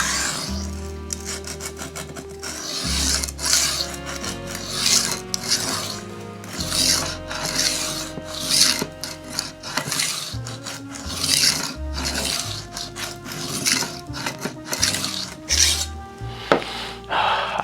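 A chef knife or nakiri is sharpened on a diamond stone to remove the burr, with repeated close rasping strokes in regular back-and-forth bursts separated by short pauses.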